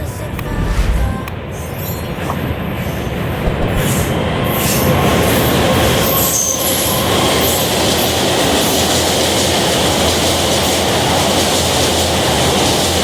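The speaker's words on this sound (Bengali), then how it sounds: "তো ট্রেন ঢুকে গেছে দেখতে পাচ্ছ, ট্রেন আসবে এক্ষুনি, বাঁকুড়া ট্রেন" A Masagram to Bankura train crosses a bridge over a river, producing a loud, continuous close-range rumble with rattling wheel clatter and metallic rail noise.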